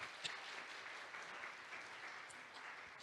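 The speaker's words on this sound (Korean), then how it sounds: "우리 김도영 그룹장님께 다시 한번 뜨거운 박수 부탁드립니다." An audience at a recruitment information session gives a presenter a steady round of applause, faint and evenly sustained throughout, with a few sharper claps standing out near the start.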